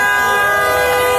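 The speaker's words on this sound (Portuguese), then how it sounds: "Apoiam com buzina, com cartazes de seus carros." Car horns honk in support of a street protest in São Paulo, a loud sustained blare close by over the noise of the crowd and traffic.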